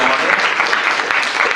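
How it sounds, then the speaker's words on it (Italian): Brief burst of applause from an audience at an Italian arts event, dense clapping that is close and loud and ends abruptly. "Io vorrei fare prima di tutto un applauso a Melania, perché presumo che se lo merita"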